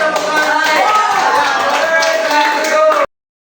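A class audience at a school presentation claps for a student group, a loud, dense, continuous patter of hands that stops abruptly.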